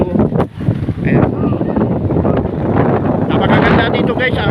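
Strong wind buffets the microphone in gusty, roaring bursts, with a voice faintly mixed in underneath.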